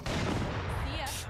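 Gunshots in a first-person shooter video game, a loud, dense burst of rapid fire with booming low end filling the short moment, followed by high-pitched electronic tones at the end.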